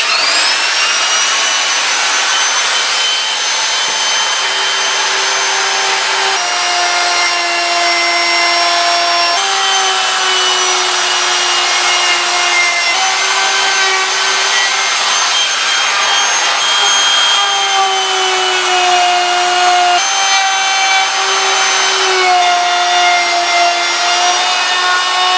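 Router cutting down a wooden axe handle, a loud continuous high whine with repeated passes shifting slightly in pitch, running alone without speech throughout.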